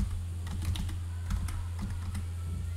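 Fingers type a login password on a computer keyboard in quick, irregular bursts of soft clicks over a steady low hum, with no one speaking.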